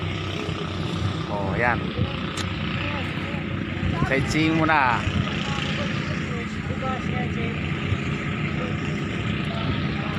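A motorboat engine drones steadily at Rawis port in Laoang, Northern Samar. The low, continuous hum stays near and fairly loud throughout, with people talking over it.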